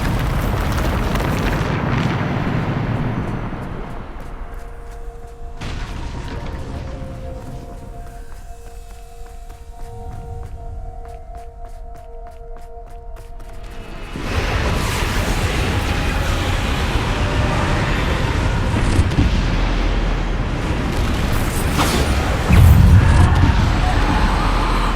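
A Bombarda spell explosion in Hogwarts Legacy sounds as a loud, sustained roaring blast with heavy low rumble that dies into a tonal lull, then surges again into crashing, rumbling debris with no talk.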